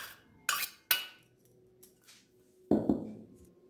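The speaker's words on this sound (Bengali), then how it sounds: "এই বাটির মধ্যে এই ভাতগুলো নিয়ে নিচ্ছি।" Cooked rice is spooned into a bowl, with a few sharp utensil clinks and a heavier clatter of the rice landing, close and fairly quiet.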